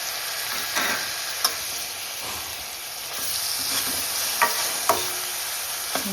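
Tomatoes stirred into potatoes and green beans cooking over a low flame, with a soft steady sizzle and occasional scrapes and clicks of the spoon against the pan.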